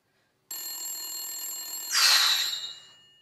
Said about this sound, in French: je dois décrocher, c'est mon patron.